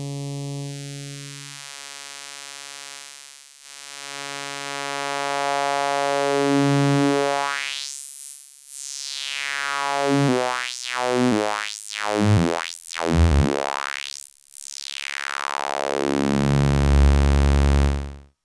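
Behringer 2-XM synthesizer playing through its high-pass filter, sustained buzzy tones whose sweeping filter carves rising and falling whooshes and rapid resonant chirps, heard alone without speech.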